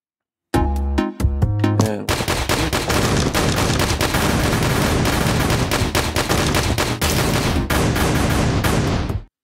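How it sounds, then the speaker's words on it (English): Missile firing with a fireball explosion effect in a Unity platformer game, a rapid string of sharp synthetic blasts, first a few spaced shots and then a dense, loud, continuous barrage that cuts off abruptly, with no talking. "now we have this really awesome missile"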